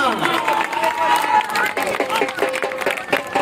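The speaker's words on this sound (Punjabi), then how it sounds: "ਇੱਕ ਵਾਰੀ ਜ਼ੋਰਦਾਰ ਤਾੜੀਆਂ" A crowd cheers and claps at a kabaddi tournament final between Ranewal Syedan and Thimka Gujrat, a dense, steady wash of clapping and voices close by across the whole stretch.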